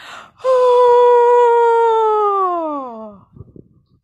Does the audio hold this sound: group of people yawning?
yes